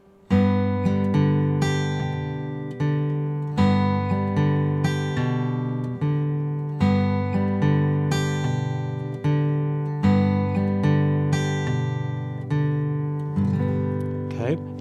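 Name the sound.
Travis picking pattern on guitar, thumb bass with fingers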